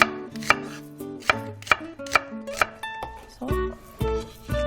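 A knife chops quickly through onion on a cutting board, cutting it into thin strips for blue crab stew: a steady run of sharp, close taps, each a crisp knock against the board, with no talking.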